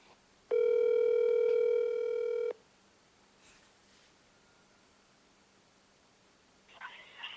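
An outgoing telephone call rings while waiting for pickup: one long steady ring tone lasting about two seconds, then quiet line hiss, with a faint click or rustle near the end.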